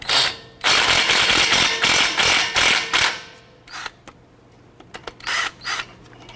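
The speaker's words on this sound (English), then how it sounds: "we're gonna use our 12mm socket, and we're gonna remove this bolt right here, holding our brake flex line in place" A socket wrench works loose the bolt holding the brake flex line on a 2009-2015 Honda Pilot front strut, with rapid ratcheting clicks in dense bursts, then a pause and a few scattered clicks close by.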